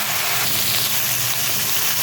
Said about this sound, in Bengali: দিয়ে কষতে দেবো। এটা একটু হালকা ভাজা হবে।